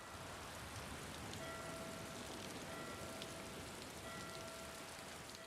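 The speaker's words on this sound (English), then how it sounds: "the rain continues" Steady rain in the Elder Scrolls Online game world, a continuous dense hiss of drops falling alone for several seconds, with faint tonal ambient music lines drifting in the background.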